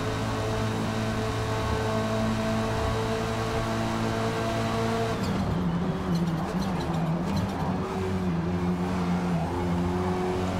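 Lynk & Co 03 TCR race car in the Forza Motorsport racing game, its engine droning steadily at high revs, then shifting pitch midway as it slipstreams and overtakes, with faint tire noise and no talk.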